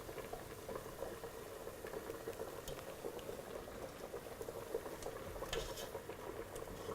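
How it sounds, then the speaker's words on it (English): Spaghetti boils in a pot of water on a kitchen stove, a steady dense bubbling and popping that stays close and continuous throughout, with no voices. "Now it's boiling nicely."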